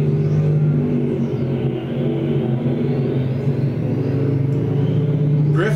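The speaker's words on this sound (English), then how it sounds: "rvin Griffith looks to be in command here of heat race number 1 of your Heinen Repair Service IMCA stock cars" IMCA stock cars race down the back straightaway in a dirt-track heat race, a loud continuous engine roar with rising pitch sweeps as cars pass, nearby and without talk.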